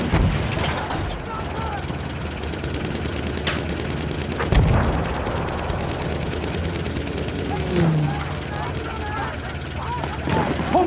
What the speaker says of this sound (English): Pom-pom guns over there.